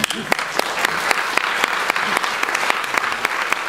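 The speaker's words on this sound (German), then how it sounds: "dann gibt es vielleicht einen Applaus sogar" Audience at a German comedy or talk stage show breaks into lively applause, a crisp dense patter of many hands with sharp individual claps standing out, loud and sustained throughout.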